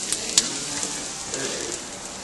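French toast sizzles steadily in a hot frying pan on the stove, a close, continuous hiss with a few sharp crackles and pops and no talking.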